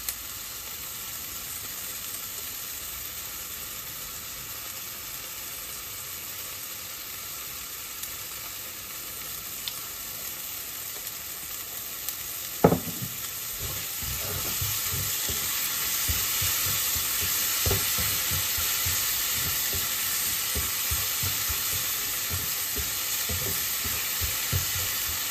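Bagoong shrimp paste sautéing in a pan for pinakbet with squash, a steady sizzle and hiss that grows louder partway through, with a few clinks and scrapes of stirring.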